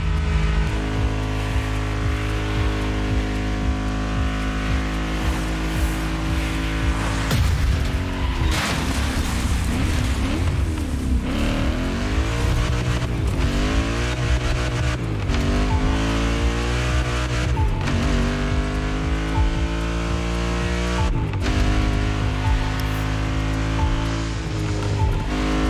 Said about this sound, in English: We've got our hands on the GT3 Cup, a model designed with track racing in mind.